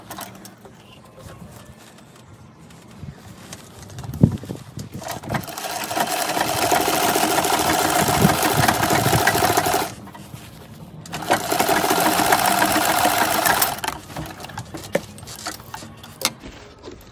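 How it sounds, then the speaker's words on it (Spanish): A sewing machine stitches fabric for a small dress for a dog, running in two steady whirring bursts of several seconds each with a short pause between, close and clear over faint room noise. "ahora vamos a coser"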